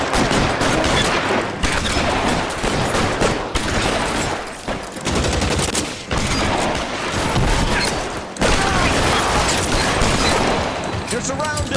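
A gang shootout in the video game L.A. Noire, with dense, loud overlapping gunfire bursts continuing nearly throughout, voices shouting beneath the shots.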